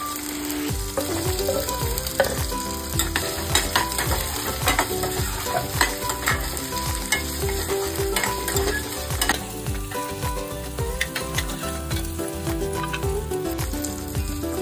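Potatoes fry with curry leaves in a pan for sago khichdi, a steady close sizzle layered with frequent rapid scrapes and taps of stirring, alongside a faint tonal background hum and no talking.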